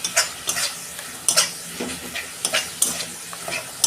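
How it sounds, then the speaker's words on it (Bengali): Spice masala paste, with onion, salt and a splash of water, sautéed in a pan for a Bengali pomfret curry: a close, soft sizzle punctuated by repeated rhythmic scraping strokes of a spatula, no speech. "মশলাটাকে একটু ভালো করে কষাবো।"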